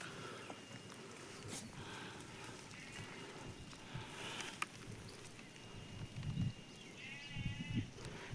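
An injured sheep, hurt by a thrown stone, bleats repeatedly with a strained, wavering cry, fairly close. Faint shuffling and farmyard noise fill the background, and the calls grow louder near the end.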